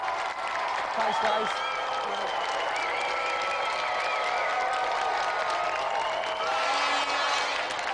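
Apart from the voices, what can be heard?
TV studio audience applause and cheering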